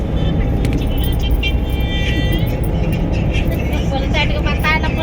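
A car carrying a group on a road trip drives along with a constant engine and road rumble throughout, while voices chatter faintly inside.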